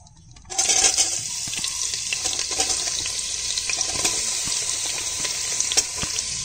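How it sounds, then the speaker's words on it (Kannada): Onions frying in oil with bay leaf, cinnamon and cardamom for egg biryani in a cooker, a loud dense sizzle that bursts in after a brief quiet start and hisses steadily throughout, without speech. "ಇವಾಗ ಈರುಳ್ಳಿ ಫ್ರೈ ಆಗಿದೆ, ಲೈಟಾಗಿ ಬಂದಿದೆ, ಸ್ವಲ್ಪ ಕಲರ್ ಚೇಂಜ್ ಆಗಿದೆ."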